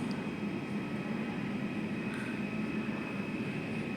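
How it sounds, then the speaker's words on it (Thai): An airplane near an airport runway, heard as a steady low engine rumble with a faint whine above it, continuous and moderately distant, with no voices. "พามาเบิ่งเครื่องบินพี่น้องวันนี้เนาะ"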